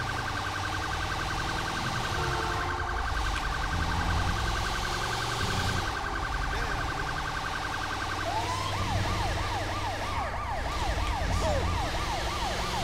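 A wailing electronic ambulance siren from Grand Theft Auto V, a British-style ambulance, steady at first then switching to a faster warbling pattern, loud and continuous over a background rumble.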